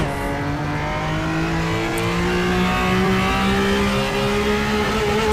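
Formula V12 race car engine in the racing game Game Stock Car 2013 at the Canada circuit, a loud, smooth high-revving wail with tones climbing steadily as it accelerates through the gears.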